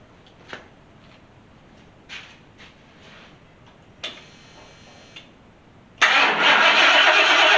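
A few faint clicks and short whirring attempts at a rat rod dually truck's swapped 460 engine, then it roars to life at the end with a loud, steady running sound.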